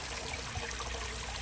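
Liquid trickles and drips continuously down a set of stairs, a steady wet hiss at even loudness throughout with no talking.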